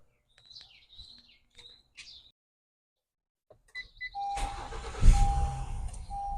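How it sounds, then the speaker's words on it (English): A Honda vehicle's engine cranks and starts after a few faint chirps and clicks, then settles into a steady running hum that stays moderately loud to the end. "I'm gonna go ahead and start the vehicle now."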